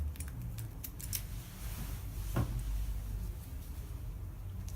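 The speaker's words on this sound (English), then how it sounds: "And then I'm just going to cut that off" Scissors snip through elastic adhesive tape wrapped on a thumb, a few quick close clicks early, then a single crisp cut, all quiet against a low background hum.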